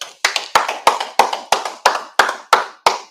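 A group claps in steady unison at a Monday night brotherhood class, about ten sharp, evenly spaced claps close by, with no talking.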